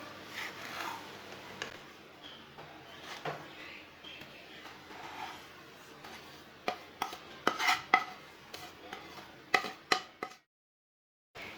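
Semolina and gram flour are stirred into sugar syrup in a pan, soft scraping at first and then a run of sharper spoon-on-pan knocks and clinks before it falls silent.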